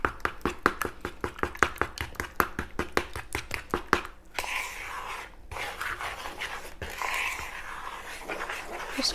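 A spoon stirs vanilla into cake batter for a New York crumb cake, starting with a run of quick, rhythmic scraping strokes against the bowl, then shifting into softer, continuous mixing and rubbing sounds.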